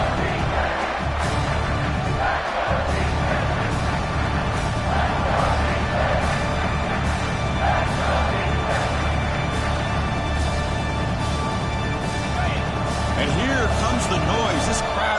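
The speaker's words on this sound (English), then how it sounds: "The noise. This crowd is trying to inspire this defense to make a big red zone stop." A big American football stadium crowd roars steadily throughout during a red zone defensive stand, a broad continuous wall of cheering and shouting with a commentator talking over it.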